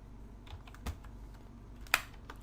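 Keys clack on a computer keyboard while someone types an SQL query, with faint, irregular keystrokes and one sharper tap standing out in a quiet room.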